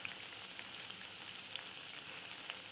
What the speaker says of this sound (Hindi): मीडियम गैस पे फ्राई करने हैं